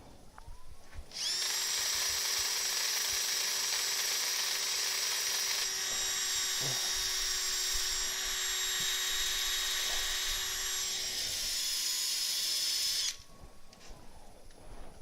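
A loud, steady high-pitched whine of a spinning wood lathe runs for about twelve seconds with a hiss of sanding the wood, then stops abruptly.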